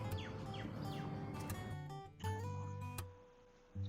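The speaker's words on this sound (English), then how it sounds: "during the lesson you will hear birds chirping" Quiet birds chirping and tweeting, with several quick rising calls and scattered short notes over a faint steady hum.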